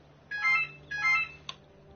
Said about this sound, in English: Hang on, phone call.